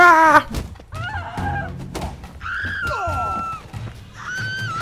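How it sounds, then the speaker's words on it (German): A brawl in the video game The Witcher 3: Blood and Wine, with thuds of punches, shouts and screams tumbling over each other in short loud bursts. "Ich glaube, wir prügeln uns und alle schreien."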